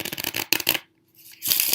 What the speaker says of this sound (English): nice and fair shuffle, goes to the deck